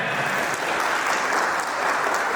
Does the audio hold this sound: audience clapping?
yes